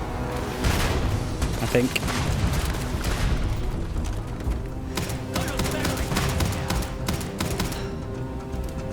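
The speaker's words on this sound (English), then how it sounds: "Someone's got a grenade launcher," Grenade launcher rounds fired and bursting in a Starfield firefight: a dense run of sharp booms and crackling blasts at mid distance, overlapping in quick irregular volleys, with a voice briefly speaking over them.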